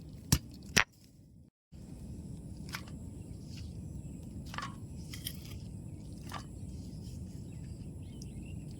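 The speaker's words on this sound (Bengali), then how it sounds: "এবার আলুগুলো ছেঁচে নেবো" Halved potatoes are crushed by hand for a village vegetable mash dish, heard as a couple of sharp close knocks at the start, then a brief pause and a low steady rustling, squishing texture with faint outdoor insect chirps.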